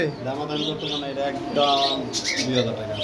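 Chocolate grizzle fancy pigeons at a pigeon farm give close, repeated cooing and soft throaty calls, heard beneath someone talking.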